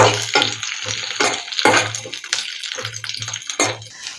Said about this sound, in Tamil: நல்லா தோலை வறுத்து எடுத்துட்டேன்.